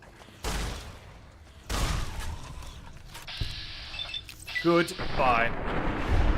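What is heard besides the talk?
caravan shotgun firing in video game Fallout New Vegas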